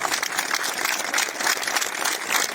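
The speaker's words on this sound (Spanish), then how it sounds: "¡Aplausos!" Dense, sustained applause from a crowd at an outdoor faith gathering honoring a singer at a sanctuary, steady and moderately loud for the whole stretch with no talk over it.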